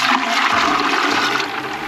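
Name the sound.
ice water poured into turkey brine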